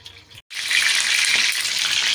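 Chicken pieces fry in a pan for a curry, a loud continuous hissing sizzle that bursts up after a brief silence and holds steady, close by with no talk.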